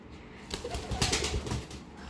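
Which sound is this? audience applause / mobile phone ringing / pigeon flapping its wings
pigeon flapping its wings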